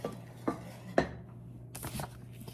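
Spoon scraping and knocking against a pot while fudge mixture of condensed milk is stirred over medium-high heat on a stove, a few distinct metallic taps followed by softer scraping, close and quiet.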